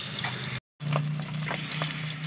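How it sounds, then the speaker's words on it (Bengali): Fish frying in hot mustard oil, a loud steady close sizzle broken by a brief silent gap, then resuming with small crackles and pops, no voices. "সরষের তেল গরম হয়ে গেছে, আমি এক এক করে মাছটা ভেজে নেব"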